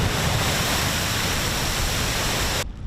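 Typhoon Khanun wind and heavy surf on Taiwan's north coast roar as a dense, continuous wash of noise, loud and steady throughout, then cutting off abruptly near the end.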